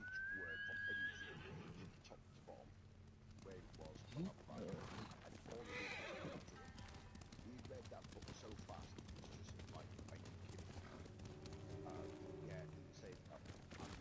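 Horses in the video game Ghost of Tsushima whinny and clop along under a continuous bed of game music and ambience, with characters talking; hoofbeats run steadily while a neigh rises briefly near the start.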